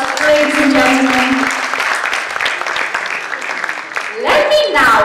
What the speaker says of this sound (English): Please join me in welcoming them all with a huge round of applause, ladies and gentlemen.